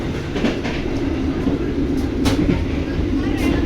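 Steady rumble and clatter of the Gumarang passenger train heard from inside its restaurant car, with continuous rail noise, a few brief sharp clicks, and faint voices talking underneath.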